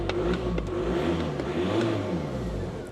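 A cheap used Audi A3 diesel engine revving, running slightly lumpy, a steady close engine drone with mild rises in pitch and no talk.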